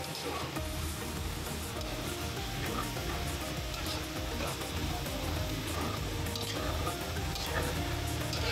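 Bell pepper, pechay, cabbage and fried squid balls sizzle steadily in a hot pan while being stirred, producing a continuous close frying hiss with soft scraping and clatter throughout.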